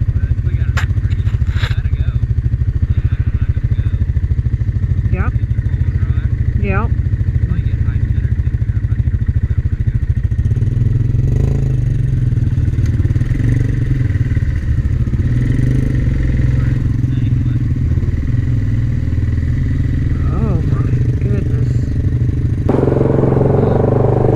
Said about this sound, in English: You better hit your four-wheel drive over here.